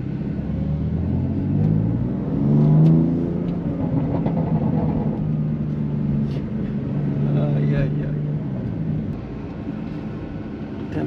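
BMW M3 stage 2 with SSR downpipe and carbon fibre body kit, engine rumbling and revving with rising and falling pitch, close and loud, while someone talks over it.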